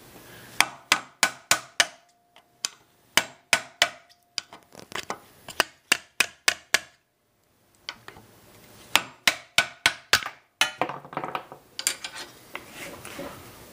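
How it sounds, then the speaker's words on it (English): A ball peen hammer taps a metal tool against a Volkswagen Mk4 control arm bushing in quick rhythmic bursts of sharp strikes, several runs of rapid blows with brief pauses between, close and clear. "And just grab him and just tap it."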